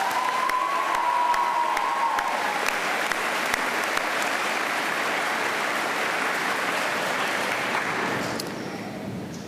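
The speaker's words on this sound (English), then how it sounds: "Please join me in another round of applause for Mr. Palicki." An audience at a high school graduation ceremony applauds for a retiring staff member, with steady, dense clapping from a large crowd that fades out near the end.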